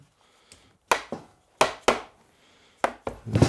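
Several sharp wooden knocks and pops as a curved raised wooden door panel pops into place, in pairs and singles, with brief quiet gaps between them, close and fairly loud.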